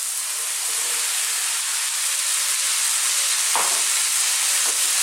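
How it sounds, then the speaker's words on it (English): Carrots and curry mixture frying on a fairly lively heat in a pan, a loud, steady hiss of sizzling with a few short scraping stirs near the end. "we need to fry this mixture around for about 4 to 5 minutes"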